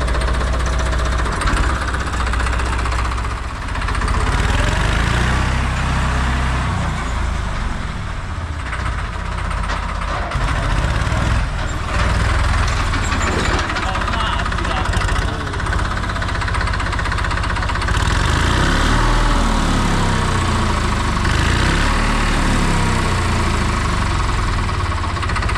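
A Massey Ferguson 5225, a small garden-special tractor, runs with a steady knocking diesel chug at close range, throbbing continuously with slight shifts in load and rev.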